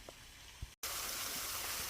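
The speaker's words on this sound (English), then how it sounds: "we're by the waterfall, so the audio is going to be kind of garbage" Waterfall at Peachtree Rock, heard as a constant rushing hiss of falling water that drops out for an instant and then returns louder and fuller, close and steady, with no talking.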